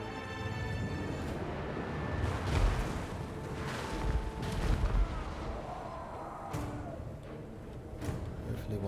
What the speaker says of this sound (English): They can keep on shooting me, they'll just be absorbed by the trees.